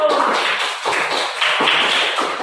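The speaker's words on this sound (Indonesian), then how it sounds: "Beri tepuk tangan buat kelompok 1." A classroom of fifth-grade children claps together for a group, a dense, steady patter of small hands for a couple of seconds, close and fairly loud, with no talking.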